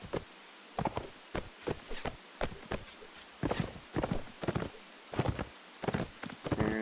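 Horse hooves from Mount and Blade Warband clop in quick irregular bursts, close and fairly loud, in a bandit forest fight, with no speech over them.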